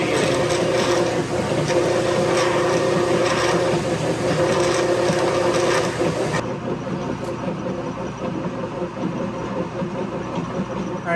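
A lathe tailstock drill feeds into a deep bore, giving a continuous grinding, rasping rumble with faint talk under it. The sound stays dense and steady, then drops to a lighter, quieter whir partway through.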